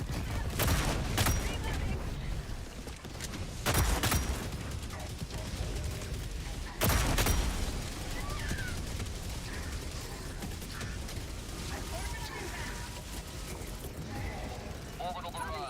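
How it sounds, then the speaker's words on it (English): Gatling Sentry turret in the Helldivers 2 video game firing in bursts of rapid gunfire amid chaotic battle sounds, with louder volleys recurring every few seconds and a player's voice talking over the action. "I thought that Gatling Sentry was gonna get me killed"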